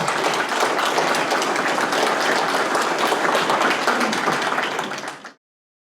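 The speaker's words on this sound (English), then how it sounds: "If we could all give him a round of applause." Round of audience applause for a speaker at a geomatics engineering conference, many hands clapping in a dense, even wash for about five seconds before cutting off abruptly.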